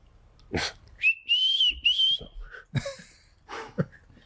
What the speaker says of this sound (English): What a whistle.